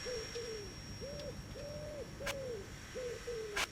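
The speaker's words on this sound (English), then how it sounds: "You can hear the pigeons." Pigeons coo repeatedly in the Trainz 12 train game, a steady series of soft, rounded calls in a moderate rhythm, with a few brief clicks and a faint high tone in the background.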